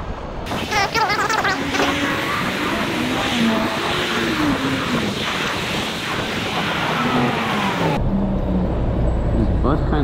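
A bus drives close by on a street, its engine rumble and passing road noise mixed with strong rushing wind from a fast-moving electric scooter.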